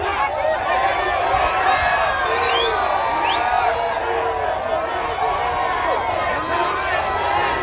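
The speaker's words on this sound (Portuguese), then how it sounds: "Onde ele chega tem uma multidão esperando, aplaudindo, emocionada." A large crowd at a political rally in Belém cheers and whoops, with shouts and overlapping voices layered over a roaring, continuous hubbub that stays loud throughout.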